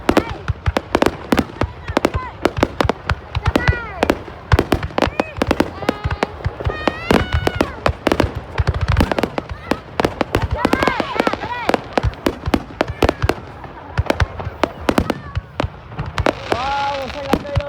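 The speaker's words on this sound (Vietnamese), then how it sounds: "Nó đang xem bắn pháo hoa nhỉ?" Dense volleys of sharp firework bangs and crackles ring out over a town square in Hoa Lu, Ninh Binh, Vietnam, continuous and loud. Nearby family members chatter and exclaim over the blasts.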